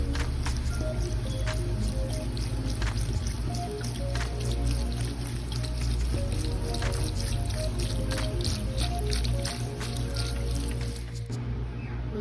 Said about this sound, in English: We're going to add some vegetable broth